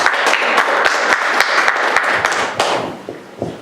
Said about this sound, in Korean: 우리 힘차게 하나님께 박수로 영광을 올려드리시기 바랍니다.